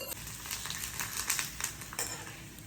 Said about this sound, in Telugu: సో ఇవన్నీ చక్కగా నేను ఫ్రై చేసి ఇందులో వేస్తున్నాను.